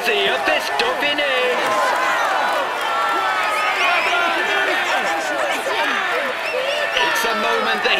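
Crowd clapping and cheering at a Critérium du Dauphiné cycling race fill the scene, with a commentator talking over the steady roar.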